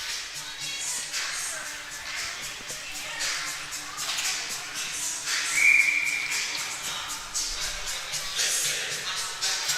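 A referee's whistle in an under-13 AAA ice hockey game gives one short blast midway through, set against steady arena crowd and rink noise.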